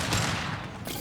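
Gunfire erupts in the video game Mass Effect 2, a dense burst of rapid shots in a loud, close, noisy wash lasting about a second, with no speech over it.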